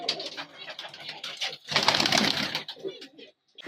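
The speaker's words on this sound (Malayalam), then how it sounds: "ഇപ്പോൾ എൻ്റെ കയ്യിലിരിക്കുന്നത് ചെമ്പൻ പ്രാവുകളാണ്" Copper-coloured roller pigeons coo and flutter close by in uneven bursts, with a louder rustling stretch in the middle and someone talking over them.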